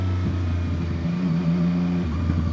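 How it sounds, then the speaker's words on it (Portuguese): A new 2025 CFMoto 675SR-R three-cylinder motorcycle of about 94 horsepower runs steadily up close, a loud low engine drone with a brief rise in revs midway and no talking. "Muito porreiro este motor tricilíndrico."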